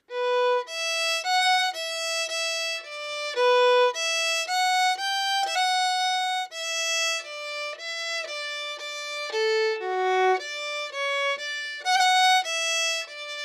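A solo fiddle plays a simple Scottish fiddle melody at a slow, steady pace, each bowed note held clearly and close with no voices.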